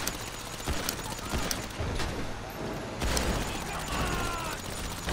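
Rapid bursts of gunfire crackle in GTA V, sharp repeated shots and booms scattered through a busy game soundscape, fairly loud and close.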